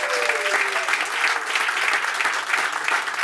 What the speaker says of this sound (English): Please give me my hand of applause.